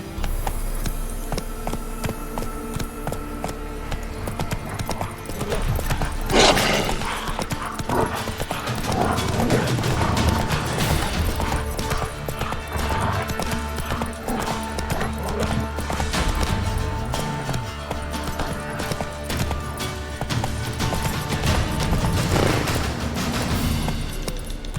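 Geralt's horse Roach gallops in The Witcher 3 video game, a steady rhythmic hoofbeat pounding throughout alongside loud game music and effects, with a sharp crack partway through.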